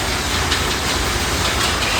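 Steady loud rumbling roar with faint rhythmic clatter, like a train passing close by, with no voices.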